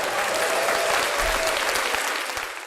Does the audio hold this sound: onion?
no